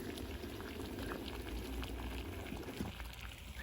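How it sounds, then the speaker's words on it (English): Water at a full rolling boil in a titanium Evernew Appalachian pot, filled to the top, over a stove. It gives a close, steady dense bubbling and hissing that continues without pause. "Oh yeah, we got boil."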